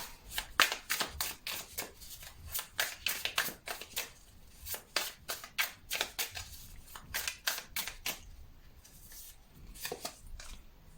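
Tarot cards are handled and shuffled, making a quick run of soft, crisp riffling and flicking bursts that are close and fairly quiet, with no talk over them.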